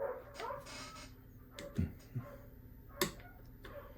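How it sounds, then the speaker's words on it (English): Excited dogs yelp and whimper indoors in a home workshop, a few sharp barks and whines popping out in separate bursts over a steady background hum. "My dogs are going nuts because my wife is home."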